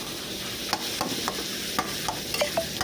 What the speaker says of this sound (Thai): เราก็เอาตะหลิว สับสับสับเจ้าไข่เจียวนะคะ ให้เขาแตกตัวนิดนึงนะคะ